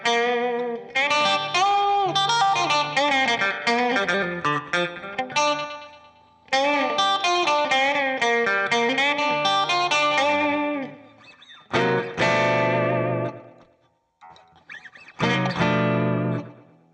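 Electric guitar on its bridge pickup, played in an old-blues style: continuous single-note licks and chords with effects and reverb, loud and close, with short pauses between phrases and no talking.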